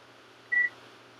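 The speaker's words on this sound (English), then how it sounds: "now that beep was me touching the two probes against each other." A single short electronic beep, a clear steady tone lasting a fraction of a second, sounds from a multimeter on continuity test as its two probes touch, close and alone over a quiet background hum.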